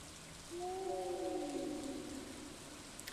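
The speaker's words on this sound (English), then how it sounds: "The fact that it's raining definitely isn't helping either." Rain in the Stardew Valley video game patters as a faint, steady hiss while a soft, gliding tonal sound rises and fades in the middle, with no voices.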